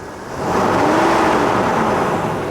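A Toyota engine with a stuck fan clutch revs and holds at a high, steady roar with a loud whooshing fan noise, heard close up under the hood with no talking.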